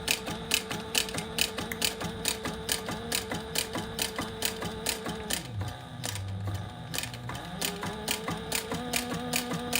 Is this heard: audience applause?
no